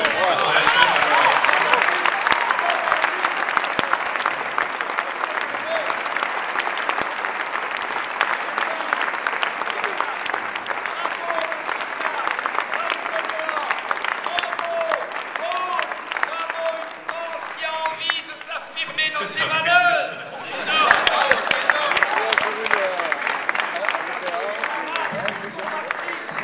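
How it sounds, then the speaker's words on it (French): Sustained applause from an audience at a wine auction in Beaune, dense even clapping that carries on for nearly half a minute with a brief dip before swelling again, voices mixed in underneath. "Et je pense qu'on peut applaudir aussi notre parrain."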